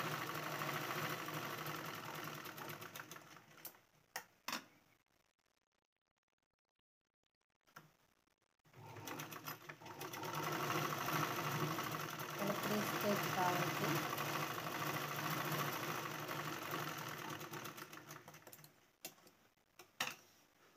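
Electric sewing machine running in steady bursts while stitching the bottom strip onto a princess-cut blouse, close and fairly loud, stopping briefly for a pause then resuming for a long continuous run.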